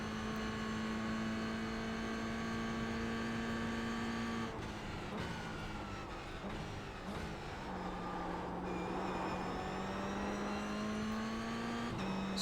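A Toyota GR86 race car engine in the iRacing simulator holds a steady high drone, dips through gear changes and revs back up, loud and continuous with no talk.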